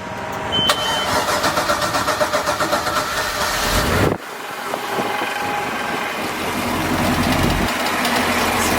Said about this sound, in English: we're going to start with the starboard motor